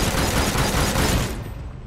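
Dense burst of shotgun fire from the Farpoint video game on PSVR, a loud, continuous cluster of blasts that fades quickly toward the end.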